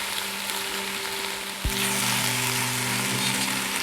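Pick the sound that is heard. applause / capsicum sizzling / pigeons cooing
capsicum sizzling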